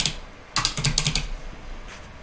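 A short flurry of quick keystrokes on a computer keyboard, a few taps then a rapid cluster of clicks, close and fairly quiet with no talking.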